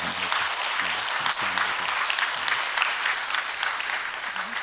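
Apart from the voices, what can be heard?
applause for two church members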